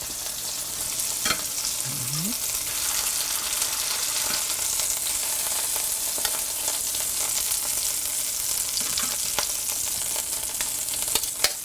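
Pork tenderloins sizzle and fry in a pan, a steady close crackling hiss that carries on alone throughout, with a few scrapes of stirring.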